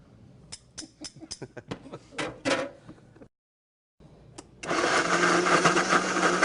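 A Vitamix blender starts with a loud, steady whir after a short pause, following a run of clattering knocks and thumps from kitchen handling while olive oil goes in.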